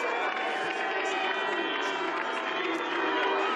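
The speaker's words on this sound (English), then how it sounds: "The crowd very fair, very generous in their support of every country, every athlete." Spectators at a Winter Universiade 2019 race cheer and applaud in a steady, dense roar, distant and continuous for the whole stretch, with a commentator's voice faintly under the noise.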